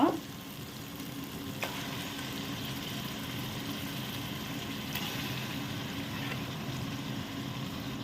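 A kilo of washed mutton fries in ghee for a Mangalorean-style curry, giving a steady, moderate sizzle and crackle with faint scattered pops throughout.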